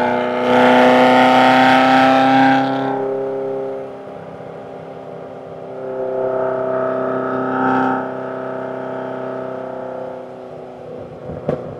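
A classic Ferrari 328 engine revs up loudly for a few seconds, then settles to a lower idle before revving again, with no voices.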